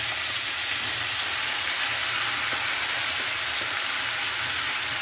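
Garlic paste, salt and yogurt go into a hot pan over a slow flame, giving a steady, close, even sizzling hiss that runs without a break and without talk.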